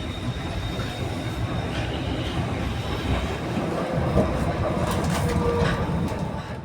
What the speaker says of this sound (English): And there's another train just about set off.